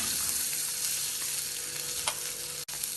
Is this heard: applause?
no